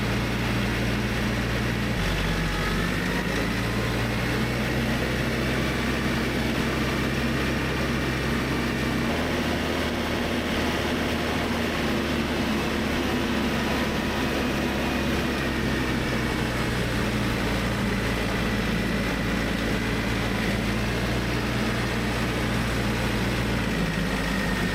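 A tractor fitted with an accessory drives over uneven terrain, its engine a steady loud drone with a shifting low hum and rough mechanical rumble throughout.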